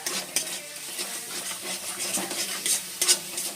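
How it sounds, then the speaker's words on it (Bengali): Masala with ground cumin is stirred and sautéed in a pan for a pointed gourd kofta curry, a close steady sizzle with rhythmic scraping of a spatula against the pan and no talk. "ভালোভাবে একটু কষে নেব মশলাটা"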